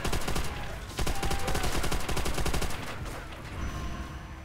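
Machine gun in Call of Duty: World at War on Xbox 360, rapid sustained bursts of automatic gunfire with a brief gap near one second, loud and dense throughout, no talking.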